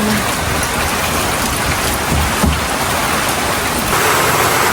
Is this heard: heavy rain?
yes